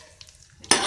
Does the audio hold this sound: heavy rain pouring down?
no